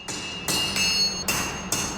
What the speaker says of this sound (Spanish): A golpe de martillo, la vara de acero incandescente se moldea.